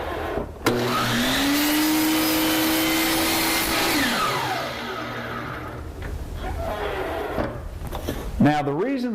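Power saw cutting crown molding for an inside corner with a Kreg Crown Pro jig: a loud steady whine that sustains for several seconds, then spins down, with a voice speaking near the end.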